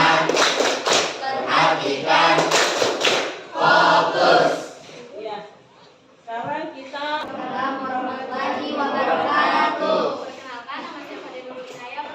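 A class of students performs a rhythmic focus clap routine in a school lesson, sharp patterned claps in bursts mixed with children chanting together, with a brief pause before the group resumes.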